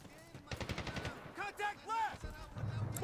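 Gunfire in the video game Medal of Honor: a cluster of sharp, rapid shots early on, then scattered bursts under voices that talk throughout.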